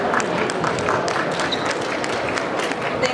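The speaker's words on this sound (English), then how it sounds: "Once again, a round of applause, please, for the next segment." Audience applause at a panel discussion, a steady wash of many hands clapping that fills the whole stretch at moderate loudness.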